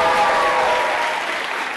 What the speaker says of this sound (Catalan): Un fort aplaudiment per tots tres